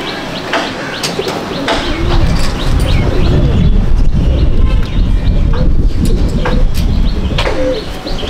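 Pigeons coo and chirp inside a loft of Andhra Pattha pigeons in Barasat, with close, repeated calls over a steady, fairly loud background rush.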